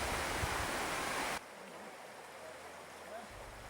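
The River Barle rushes under the stone Tarr Steps clapper bridge on Exmoor, a steady broad wash of flowing water that is loud at first, then drops abruptly to a softer, more distant murmur.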